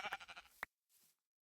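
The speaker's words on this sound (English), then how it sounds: "Oh, another sheep. Good." A Minecraft sheep gives a single short wavering bleat, close and clear, followed by a brief soft rustle and then quiet.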